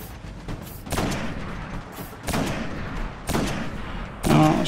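Gunfire while shooting snipers in the Destiny video game, heard as repeated loud bursts and booming shots at irregular intervals over a steady background of game noise, with a sharp burst near the end.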